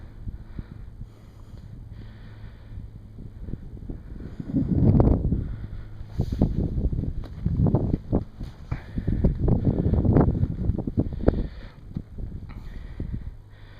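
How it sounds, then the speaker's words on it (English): Gusts of wind on a mountain top buffet the microphone in low, rumbling surges that swell and fade irregularly, with some rustling and scuffing in between. "It's pretty windy up here."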